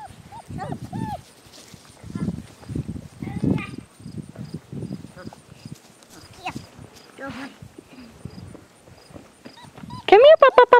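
Brindle puppies give a few short, high whimpering cries, clustered loudly near the end, while a person talks over much of the scene and other animal noise scatters in the background.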